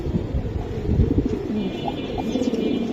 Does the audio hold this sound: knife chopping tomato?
no